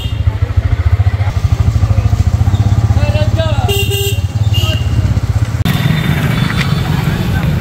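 Motorcycle engine running on a village road trip to market, a steady loud close putter throughout with horn toots and passing traffic around it midway.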